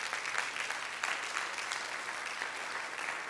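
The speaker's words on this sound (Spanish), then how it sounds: "Pueden darle un aplauso bien fuerte al Señor Jesús." A church congregation breaks into sustained, dense applause, an even wash of many hands clapping at moderate volume with no speech over it.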